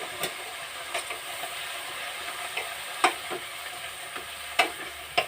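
Green chillies being stirred into amaranth leaves in a hot pan, a constant sizzle punctuated by repeated sharp scrapes and clacks of the spatula at irregular intervals, close and clear.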